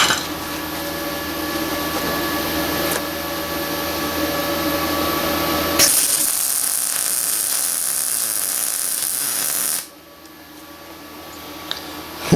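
Yeswelder 205DS welder arc welding aluminum, a steady close electrical buzz with a harsh hissing crackle of jumping arcs in the middle stretch, then cutting off.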